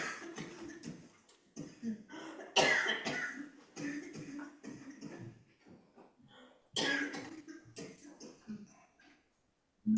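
Someone coughs repeatedly in short bursts, with quiet pauses between, close by and fairly clear.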